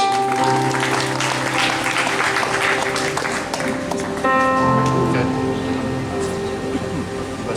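Steady, sustained applause from a congregation at a church funeral service in Indonesia, a dense clapping wash with a held musical tone and voices underneath.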